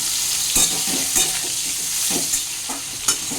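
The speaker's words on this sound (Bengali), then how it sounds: "দেখো ফুলকপিটা হালকা লাল করে ভাজা হয়ে গেছে" Cauliflower pieces with salt and turmeric sizzle steadily in hot oil, with several soft scraping stirs at irregular intervals, close up and without talking.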